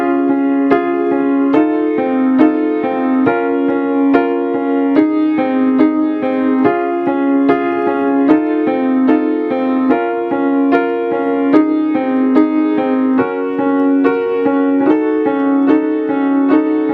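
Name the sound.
piano playing pre-chorus of a piece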